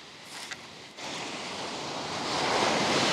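Ocean waves washing onto a New Zealand beach, a steady broad rush of surf that swells louder toward the end, with wind noise on the microphone.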